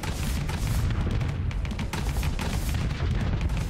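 Ship cannons firing in the space combat game Starsector, a dense, continuous rumble of rapid heavy booms with no clear breaks, loud and close throughout.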